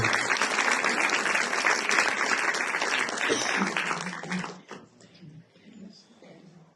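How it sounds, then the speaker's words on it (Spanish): Loud, dense applause from an audience at a Provincial Prosecutor's Office of Chimborazo talk for International Women's Day, sustained for several seconds and then quickly dying down to scattered claps and quiet room noise. "Recibamos la fuerte aplauso, por favor."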